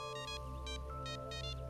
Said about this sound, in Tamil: எனக்கு ஃபோன் வருது